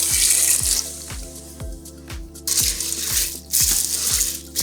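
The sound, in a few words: water poured into pot with macaroni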